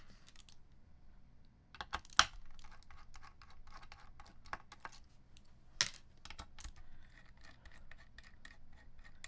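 Rapid keystrokes on a computer keyboard during a typing test, a steady run of light clicks with a few sharper, louder taps standing out, heard close and alone with a low background hum.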